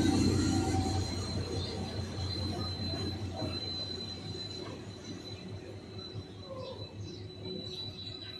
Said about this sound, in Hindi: ये PLC लेने के बाद GMU 34735 रवाना हो चुका है मुरादाबाद रेलवे स्टेशन से